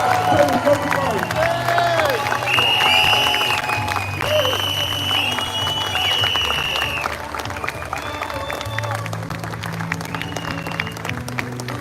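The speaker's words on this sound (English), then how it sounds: "Give her a round of applause, please." Audience applause fills a live event in London, steady clapping with scattered cheers throughout, crowd noise continuous and fairly loud.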